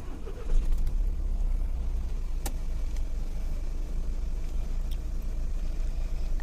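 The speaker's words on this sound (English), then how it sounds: "I'm going to turn on the car now" A car engine turns over and settles into a steady, low idle rumble nearby, lasting several seconds.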